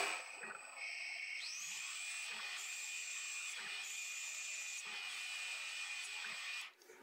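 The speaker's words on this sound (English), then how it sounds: "The holy grail of electronic lead screws, automatic thread cutting." Metal lathe fitted with an electronic lead screw cutting a 2 mm pitch thread, a steady high whine with a constant tonal hum and faint periodic knocks, close up, winding down at the end.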